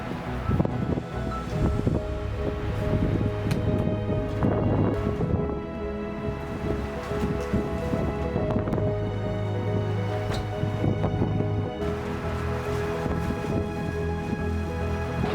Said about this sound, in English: as you can see and as you can maybe hear, it is pouring rain